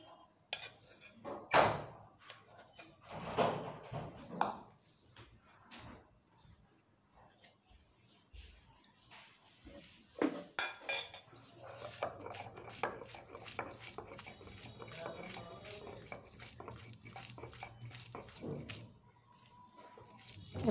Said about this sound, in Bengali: এবার শিলপাটায় আমি এগুলো বেটে নেব